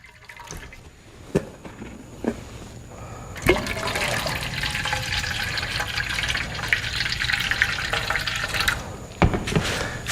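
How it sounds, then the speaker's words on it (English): Water poured onto a surface sealed with Flex Seal spray outdoors in hot Florida weather, a steady splashing rush that builds and continues with a few sharp knocks, close to the microphone. "So pouring the water in."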